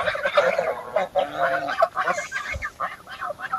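Ducks quack in a busy, overlapping chorus of short nasal calls, close by and fairly loud.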